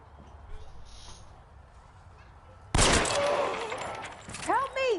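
Gunfire in L.A. Noire, a sudden loud burst of shots after a quiet stretch, followed by rattling noise and a shouted voice near the end.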